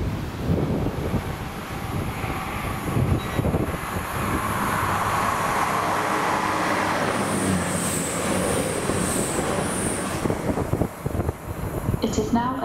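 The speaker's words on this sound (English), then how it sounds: "The train now approaching platform 2 does not stop here." A non-stopping train rushes through East Midlands Parkway station with a loud, steady roar and rumble, mixed with gusty wind noise, then eases off near the end.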